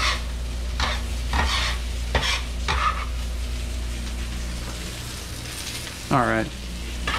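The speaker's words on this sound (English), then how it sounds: "So stir the basil through." Basil is stirred through vegan hot Italian sausages, peppers and onions in a sizzling pan, with several scraping stir strokes over a steady close sizzle and a short spoken remark.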